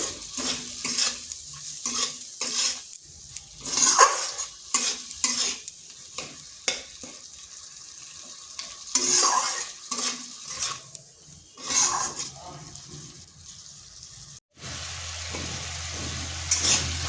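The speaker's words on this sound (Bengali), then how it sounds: "এরপরে মশলাগুলো একটু কষে নিচ্ছি।" Spices with poppy seed and salt are stir-fried in a karai for a vegetarian pointed gourd dish, with steady rhythmic scraping strokes and clinks over a continuous close sizzle.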